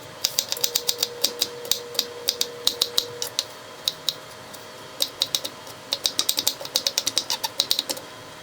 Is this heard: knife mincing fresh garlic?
yes